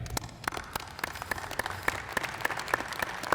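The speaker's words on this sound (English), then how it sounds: "let us give you a round of applause" An audience applauds graduating seniors at a university spring senior breakfast, with dense, steady clapping and crisp individual claps standing out throughout.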